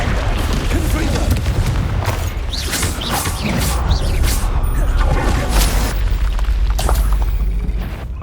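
Explosive spell blasts boom repeatedly amid chaotic combat in the wizarding game Hogwarts Legacy, loud and dense with overlapping impacts, rumbles and creaking debris, while speech-like voices run underneath throughout.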